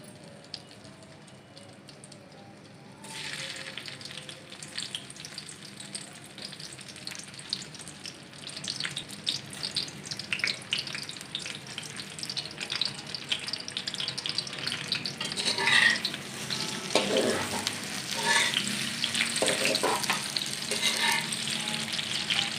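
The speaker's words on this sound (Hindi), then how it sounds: "अब हम भिंडी डालेंगे ऑयल में।" Okra (bhindi) drops into hot oil in a kadai on the stove for dhaba-style bhindi masala. The oil bursts into a loud, steady sizzle that swells with stirring and keeps crackling, with no speech.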